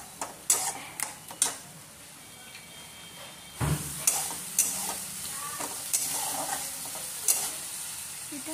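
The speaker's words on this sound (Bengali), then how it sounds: "জাস্ট এটা 2 মিনিটের মতো কষে নিতে হবে" Spice masala sizzles softly while a spoon stirs and taps against the pan in sharp, irregular clicks spread across the stretch, close up, over a low frying hiss.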